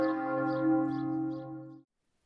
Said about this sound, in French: le son d'une cloche mise en vol